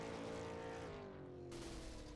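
Race car engine at Southern National Motorsports Park during a super late model race, a steady loud roar whose pitch slides downward as the motor fails, continuous and close with no talk.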